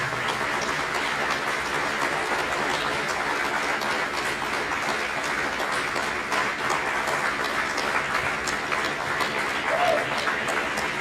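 A sustained round of applause from the audience at an annual meeting, dense steady clapping with voices mingled in, holding at an even level the whole time.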